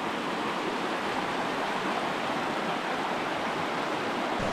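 A small waterfall on Heart Creek in the Alberta Rockies, near and steady, its dense rushing splash filling the air without pause.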